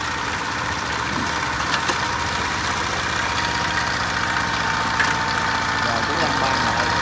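Homemade scrap-built excavator with a D6 engine fitted with a muffler, idling in a steady, loud mechanical drone with vibration and someone speaking over it.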